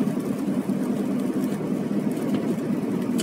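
A car engine hums steadily on a road in western Ukraine, heading off the Chop highway, with a continuous low drone and no voices.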